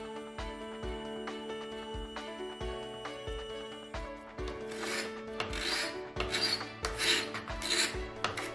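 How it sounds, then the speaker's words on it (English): Carbide scraper drawn across the lacquered wood finish of a vintage china cabinet base, giving steady rasping strokes in a regular rhythm that grow louder and harsher halfway through, close up with a faint ringing tone behind. "I am using a carbide scraper."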